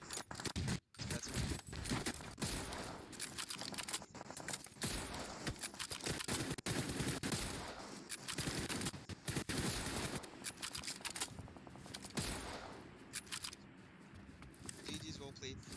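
Sniper rifle shots in PUBG Mobile crack out in a rapid run of sharp reports over a steady noisy game backdrop, with someone speaking throughout.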